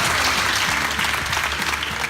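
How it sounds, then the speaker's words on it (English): Food-packing volunteers give themselves a round of applause after a morning of boxing food, a loud, dense crowd clapping that holds steady throughout with a faint low hum beneath. "So give yourself a round of applause."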